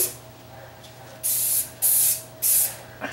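Three short bursts of spray paint hiss from an aerosol can of flat or satin paint used to refinish a table, close and fairly loud, separated by brief pauses.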